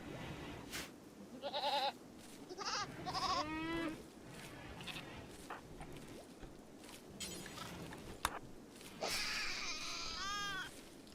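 Goats bleat in the video game RimWorld, with a string of wavering, cry-like calls in short bursts separated by brief pauses, clear and fairly close.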